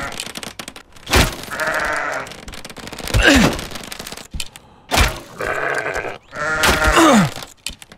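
Sheep in a video game give several loud, close bleats in two pairs, each a wavering cry with short gaps between, amid bursts of game noise and no talk.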